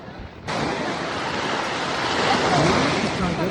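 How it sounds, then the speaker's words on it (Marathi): Waves washing on the Jayakwadi dam reservoir (Nathsagar) at Paithan, a constant rushing surf churned with wind buffeting the microphone, loud and close from the start. "आणि सध्या लाटा देखील येताना आपल्याला दिसत आहे."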